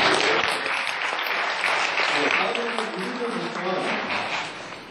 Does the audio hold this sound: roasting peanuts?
no